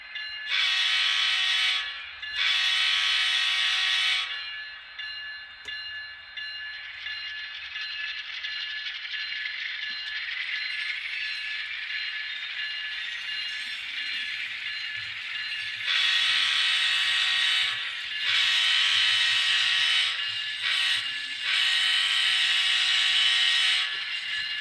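A model-railroad sound unit in a GE ET44 Tier 4 locomotive powers up, giving a loud electronic diesel drone with horn-like tonal bursts that start, stop and return, steady and close, without talk.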